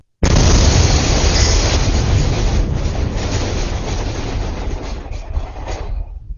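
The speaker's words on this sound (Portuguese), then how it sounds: "O que essa câmera captura é o áudio da explosão. 6 segundos de um estrondo contínuo." A blast at a factory producing explosives for construction and mining, heard as a sudden loud boom that becomes a continuous roaring rumble for about six seconds before tapering off.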